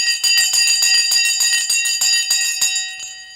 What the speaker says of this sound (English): let me come back and ring the bell in just a few seconds from now